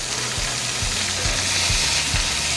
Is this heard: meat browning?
yes